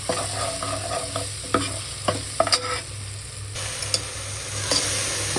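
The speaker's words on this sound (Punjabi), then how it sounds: "ਚਲੋ ਜੀ ਆਪਾਂ ਪਿਆਜ਼ ਵੀ ਪਾ ਦਿੱਤੇ ਨੇ" Onions sizzle in ghee in a home kitchen pan while a spoon stirs, giving a steady frying hiss with scattered scrapes and knocks against the pan. A low hum runs underneath, and no one speaks.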